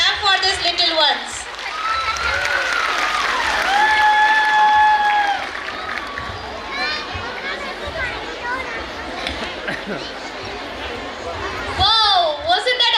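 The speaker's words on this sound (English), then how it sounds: "Parents, clap for these little ones." Parents applauding a children's performance at a school annual function, a steady crowd clapping and chatter under an announcer's voice and stage music.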